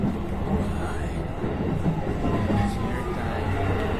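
Inside a running train in Japan: a steady rumble of wheels on track with faint rattles and clicks, and a voice talking over it now and then.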